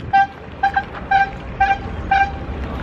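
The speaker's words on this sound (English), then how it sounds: "Why is this guy honking so much?" A vehicle horn honks repeatedly in Paris near the Eiffel Tower, five short two-tone toots in a steady rhythm, fairly loud over a low hum of city traffic.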